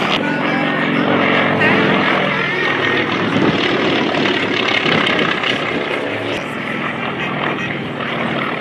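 A North American AT-6 Texan, a Second World War primary trainer, drones overhead at an air show, its propeller engine a loud, steady broadband roar held throughout with slight swells as it passes.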